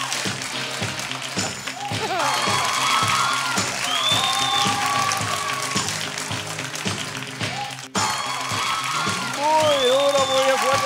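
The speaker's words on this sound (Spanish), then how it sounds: "¡Muy duro, muy fuerte el aplauso!" A live audience at a strongman show applauds, producing a sustained wash of clapping and crowd noise with occasional whoops. A loud voice talks over the applause throughout.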